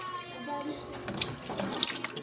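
Water runs from a tap into a sink in a steady, close splashing stream that swells louder toward the end, with no talking over it.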